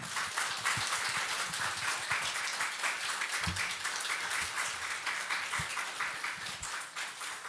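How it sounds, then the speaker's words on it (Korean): A Korean church congregation applauds during Sunday worship as a guest preacher comes forward, a dense, even patter of clapping across the whole stretch, moderately loud, with a few heavier thumps. "전사님 나오실 때 잠깐 박수로 맞이하겠습니다."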